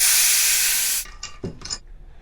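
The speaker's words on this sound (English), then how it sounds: "So it'll actually spray dish soap." A Harbor Freight refillable pressurized hand sprayer loaded with dish soap gives a loud, steady hiss for about a second, then stops, leaving a few faint sputters and drips.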